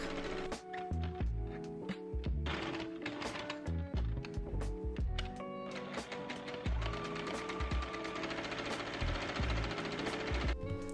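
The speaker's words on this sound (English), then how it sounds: "I like to stitch all the way around these pieces so that it gives a really crisp and finished look" A sewing machine stitches around the tie pieces of a wedding guest dress, a steady fast mechanical whir that runs in bursts with brief pauses, fairly loud and close, with no talking.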